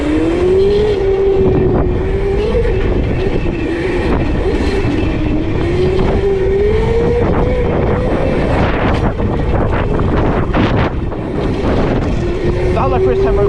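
ETM RTR electric dirt bike with stiffened suspension riding over a jump outdoors, a steady rising and falling motor whine under heavy wind rush, with clattering bumps and knocks on landing toward the end.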